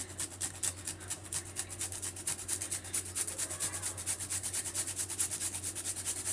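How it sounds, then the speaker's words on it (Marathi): About an inch of fresh ginger rubbed against a kitchen grater, a quick, even series of close scraping strokes, roughly two per second, repeated steadily throughout with no talking. "एक इंच आलं मी खिसून टाकणार आहे"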